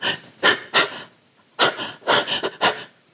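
A woman voicing breathing for film dubbing imitates heavy panting, with quick rhythmic breaths in short bursts, close and fairly loud, separated by brief pauses.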